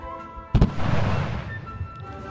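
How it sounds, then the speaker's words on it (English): Small cannons fire in battle in the video game Victoria 3, a sharp close boom followed by a rolling, fading rumble, with fainter distant shots around it. "You can even hear the small cannons shooting each other."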